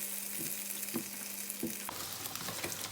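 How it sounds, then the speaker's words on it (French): Wheat and soy vegan nuggets frying in a pan, a steady broadband sizzle with a few soft knocks or stirs, close and continuous with no talking. "Et je vais faire à la poêle les nuggets blé et soja."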